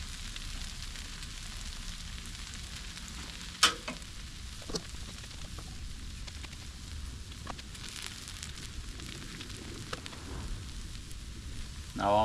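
Hash browns frying on a Blackstone griddle, a steady close sizzle and crackle with occasional scrapes and clicks, and brief speech in the background.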